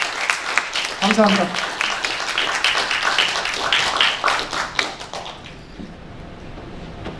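Audience applause in a museum auditorium lecture hall welcoming an actor for a film talk, a steady dense clapping that fades out over several seconds, with a brief spoken thank-you.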